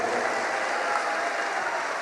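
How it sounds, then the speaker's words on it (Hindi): Sustained audience applause at a devotional gathering in Dubai, a dense steady wash of clapping filling the whole stretch without pause. "खूब जोर से ताली बजा करके साधुवाद दो"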